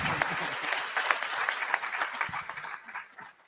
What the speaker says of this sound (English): Yeah, clap, because that was hard.